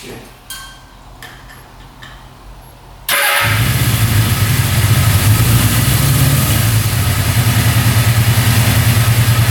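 A cheap used motorcycle's engine, its throttle just adjusted, catches after a few quiet ticks and clicks, then idles steadily and loudly with an even, rapid chuffing pulse.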